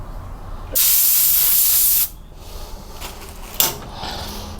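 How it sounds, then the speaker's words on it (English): Compressed air blasting metal shavings out of a threaded hole in an LS3 engine block, one loud hissing burst about a second long, then quiet shop ambience with a short knock. "We're gonna blow the hole out because there's some metal shavings in there too."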